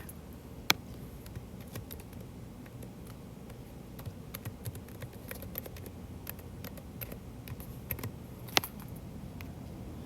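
Password keystrokes on a computer keyboard while an online account is set up: sparse, light clicking taps with a few sharper strikes over a low steady background hum, and no talking.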